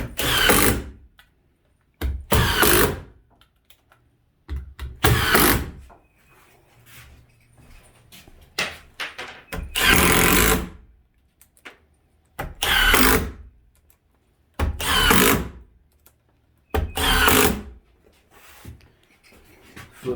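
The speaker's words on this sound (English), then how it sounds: "I'm just going to get the rest of my screws out. Just screw it all in." Power drill driving screws into handmade wooden shutters, about eight short whirring bursts a couple of seconds apart, each loud and close, separated by near-silent pauses.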